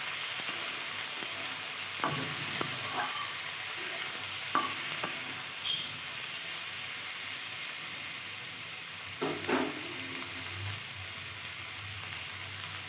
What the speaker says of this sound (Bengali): এখন কেটে রাখা ভিঙে টমেটো এখন এক থেকে দু মিনিট এভাবে নেড়ে চেড়ে নিচ্ছি